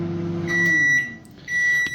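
Microwave oven heating ramen broth, a low hum that fades out, followed by two sets of high electronic beeps, close and clear.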